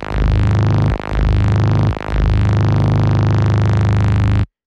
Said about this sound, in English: I think it's like a modular synth recording that I have.